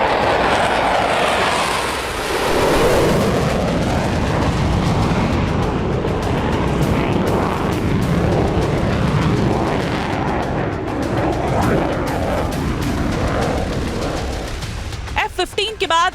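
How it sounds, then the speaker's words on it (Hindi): F-15 fighter jet roaring across the sky over Israel, a loud broad rushing roar that swells and slowly fades, with a voice talking over it near the end. "दूसरा F-15 लड़ाकू विमान ने आसमान में भरी हुंकार।"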